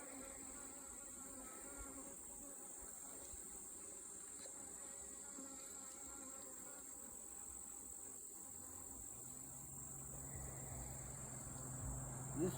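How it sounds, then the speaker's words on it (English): Honeybee hive humming steadily in an open apartment as frames are inspected, a constant close buzz of many bees that swells slightly louder toward the end. "This hive's starting to make a little bit more noise."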